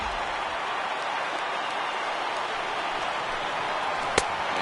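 A crowd of about 34,000 baseball fans at a Padres at Phillies game rises to its feet, a steady loud roar of cheering with one sharp crack near the end.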